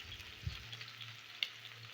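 Small fish frying on a hot tawa griddle over a high flame, a quiet steady sizzle with soft crackles and an occasional sharp spit.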